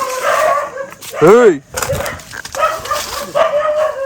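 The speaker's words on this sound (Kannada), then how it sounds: "ನಾವಿಲ್ಲಿ ಬರ್ತಿರೋದಕ್ಕೆ ಕಳ್ಳರು ಅಂತ ನಾಯಿಗಳು ಬೊಗಳಾಡ್ತಾವೆ" Dogs in a village barking at visitors, a pack heard through the scene with a rising yelp or howl in the middle, all under near, continuous talk.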